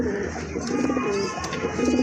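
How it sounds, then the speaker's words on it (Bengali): A Lahori pigeon coos in soft, repeated low calls, close up, over a steady background hum, with no talking. "এটা কিন্তু খুব ভালো ডাকে কিন্তু কবুতরটা"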